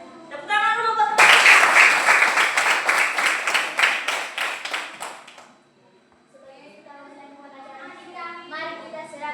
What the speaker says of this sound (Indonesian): Tepuk tangan dulu buat teman.